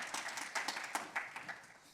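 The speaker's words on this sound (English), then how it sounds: "So a round of applause for the speakers." A modest burst of audience applause for the speakers at a housing awards event, scattered claps from a small crowd, fairly faint and short, tapering off quickly.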